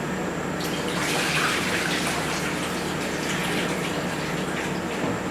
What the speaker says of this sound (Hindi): राइस में से जो पानी है वो स्ट्रेन कर देते हैं